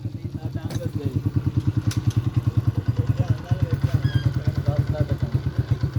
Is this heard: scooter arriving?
yes